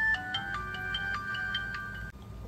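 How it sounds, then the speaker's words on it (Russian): A mobile phone ringtone plays a repeating melodic pattern of clear electronic tones, moderately loud and close, cutting off abruptly near the end. "Ага, звонят."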